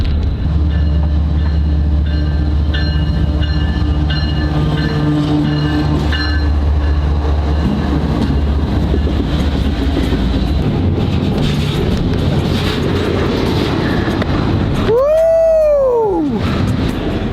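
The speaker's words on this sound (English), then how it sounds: "I live right next to some train tracks." A train rolls past on tracks very close by, a loud low rumble with wheel clatter, squealing tones and then a high, swooping wheel squeal near the end.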